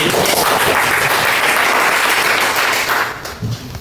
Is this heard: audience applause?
yes